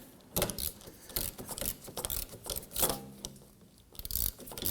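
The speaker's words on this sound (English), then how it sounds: "you're gonna pop your ratchet on there" A hand ratchet clicks in quick uneven bursts while running a bolt into a rear CV axle on a 2003-2014 Volvo XC90 3.2L inline-six. The ratcheting is close and crisp, with short pauses between strokes.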